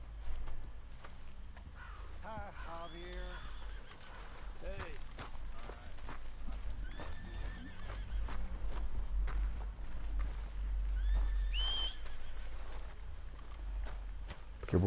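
Horse hooves in Red Dead Redemption 2 clip-clopping at a walking pace, close and fairly quiet, with a low ambient rumble and brief whinny-like calls between steps.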